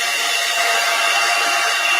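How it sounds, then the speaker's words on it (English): A hair dryer blows steadily and loudly throughout, a constant high-pitched whooshing hiss with no talking. "So I'm using my hairdryer again"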